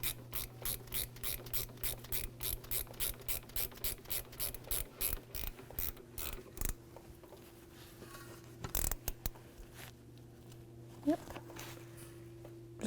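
A ratchet wrench with a 12 mm socket tightens a new banjo bolt on a brake caliper of a 2010-2015 Lexus RX350. It gives a fast, even run of close clicks that stops partway through, followed by quieter handling and a voice.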